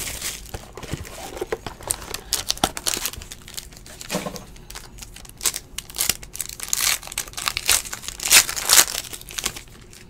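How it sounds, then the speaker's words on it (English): A sealed case of 2017 Contenders Optic football trading cards is torn open up close, with loud, irregular crinkling, crunching and ripping of plastic and cardboard throughout. "Let's open this up."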